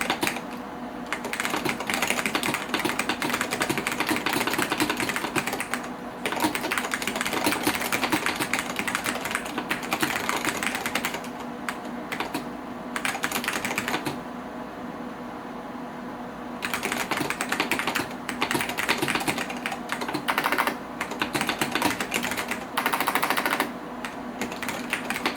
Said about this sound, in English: this keyboard has very nice Alps switches